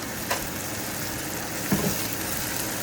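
Beef rib biryani simmering in a pot after marinated juice is poured in, giving a steady low sizzle and bubbling with two brief louder stirs or pops, alone without voices.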